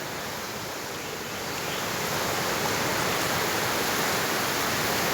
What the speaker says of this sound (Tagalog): Dito kami ngayon sa ilog.